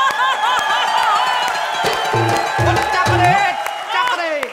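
A studio audience on a Comedy Circus comedy stage claps and cheers loudly and steadily throughout, while voices shout and talk over the dense crowd noise.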